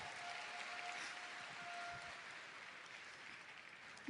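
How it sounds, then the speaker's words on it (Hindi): A seated audience at a motivational stage function claps for itself, a steady wash of applause throughout, fairly distant and even in level, with no voices standing out. "खुद के लिए ताली बजा सकते हैं?"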